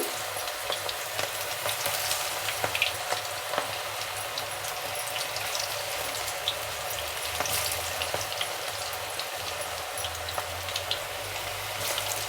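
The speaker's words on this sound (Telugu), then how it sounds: "ఆయిల్ హీట్ ఎక్కింది కదా ఇప్పుడు మనము పకోడీలాగా కొద్ది కొద్దిగా వేసుకుందామా" Cabbage pakodi fry in hot oil with a steady, dense sizzle and crackle that carries evenly throughout, close and fairly loud, with no voices.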